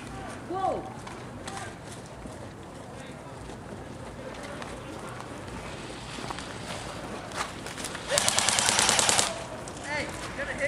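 Airsoft guns firing in close-quarters (CQB) play at a Manassas field, including FAL gas blowback, LM4 and MG36 replicas: scattered shots and bursts, with a loud sustained volley near the end, amid footsteps, movement and people talking.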